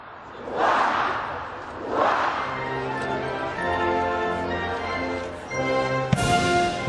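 A large crowd cheers and shouts in long swelling waves for the Danish royal family at Frederik's birthday celebration, loud and sustained with no speech.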